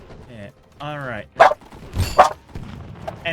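A dog barking impatiently to be let outside gives a few near, sharp barks and whining yelps in short bursts, with quieter stretches between.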